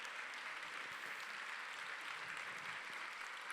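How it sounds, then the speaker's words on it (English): A benefit event audience gives a steady, dense round of applause that fills the room evenly and carries on without a break. "Give yourselves one last big round of applause."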